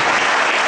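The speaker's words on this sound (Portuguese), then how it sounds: "Você pode aplaudir bem forte." A church congregation at an evangelical service applauds loudly, a dense and steady wash of clapping with no breaks.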